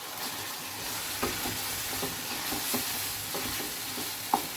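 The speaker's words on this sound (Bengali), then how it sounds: "আমরা মাছটা ভালো করে আগে কষিয়ে নিব।" Prawns frying in a spiced masala for a Bengali prawn malai curry, steady oily sizzle with a few sharp scrapes of a spoon stirring through the pan, close and alone.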